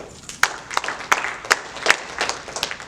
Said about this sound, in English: Can y'all clap?